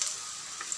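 Garlic and onion frying in a pan, giving a steady soft sizzle with faint crackles throughout the short moment, no talking.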